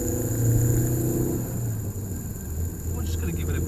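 A car with a 1.8T 20V engine pulls in third gear, its engine droning and rumbling steadily at close range, with a person talking over it.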